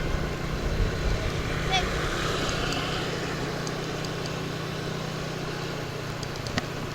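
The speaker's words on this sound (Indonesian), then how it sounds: "Anginnya gede banget." Strong, steady wind roars and buffets continuously while riding along a foggy mountain road near Gunung Bibi, Cepogo, Boyolali. A low engine-like rumble sits beneath the loud wind, with no clear break throughout.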